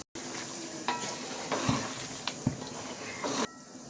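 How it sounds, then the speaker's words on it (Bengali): Fried potato pieces are stirred into chicken biryani in a pot with yogurt, giving a steady soft sizzle broken by a few scraping, clacking strokes of the spoon against the pan. "এর মধ্যে আমি আলুগুলি দিয়ে দিই। ভাজা আলুগুলি যেগুলি ভেজেছিলাম"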